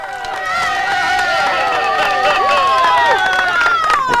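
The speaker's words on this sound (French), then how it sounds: "la foule me semble beaucoup active cette année" A televised 1995 mini putt tournament crowd cheers and shouts after a birdie, a loud, dense burst of excited voices close by that carries on for the whole few seconds.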